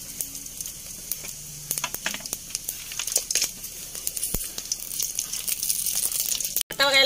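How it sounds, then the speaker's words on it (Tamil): Fennel seeds and cinnamon sizzle and crackle in hot oil while cooking goat intestine curry, a steady close frying hiss with small pops and a few stirring scrapes, no talking. "எண்ணெய் சூடாகிட்டு இப்போ சோம்பு பட்டை வகையெல்லாம் சேர்த்துக்கலாம்."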